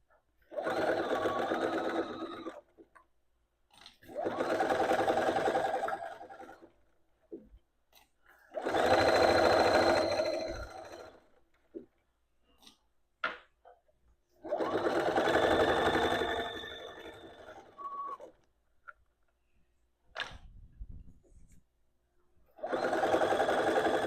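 A sewing machine stitches a dress seam in five runs of whirring lasting about two seconds each, separated by short quiet pauses, close and clear.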